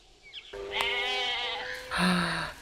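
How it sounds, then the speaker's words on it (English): A goat in the Jurassic Park film bleats close and loud, one long wavering cry followed by a shorter, higher bleat, with little else around it. "What's gonna happen to the goat?"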